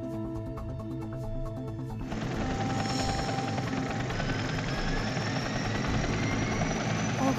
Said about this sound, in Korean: 헬기에 2대로 나눠서 탑니다.